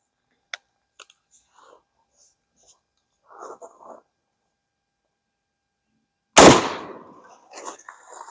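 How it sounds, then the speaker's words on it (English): Mossberg Maverick shotgun fires one round of Remington 00 nine-pellet buckshot outdoors, a single loud, close blast with a short echoing tail after several seconds of quiet, faint clicks and handling sounds. "first buckshot downrange is going to be the Remington double-aught 9-pellet"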